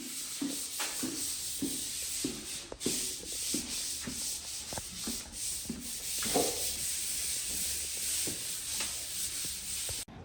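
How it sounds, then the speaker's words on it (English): A painter sands interior walls before priming them in a new-build accessory dwelling unit, a steady rasping scrape repeating in rhythmic strokes about every half second, close and continuous with no talk. "He's busy sanding the walls right now so he can prime them"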